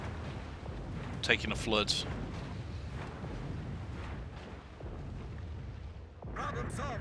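Depth charges explode around the Pan-Asian destroyer Yueyang in World of Warships: a steady low, rumbling barrage of booms with a few sharper bursts, under a short spoken voice line and commentary.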